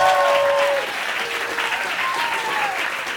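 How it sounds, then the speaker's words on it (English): A live theater comedy show audience claps along loudly and continuously, the dense applause running throughout while a few sustained sung or spoken tones float above it near the start. "Clap, everybody. Clap it up."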